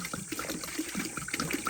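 Liquid pours into a bee yard waterer in a short, close stream with small bubbling glugs.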